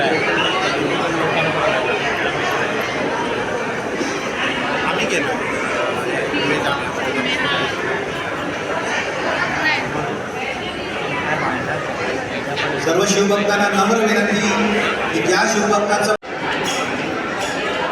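Loud, steady crowd chatter fills an outdoor festival art exhibition at Chhatrapati Shivaji Maharaj Park, with many overlapping voices, a brief sharp dropout near the end, then the babble resumes.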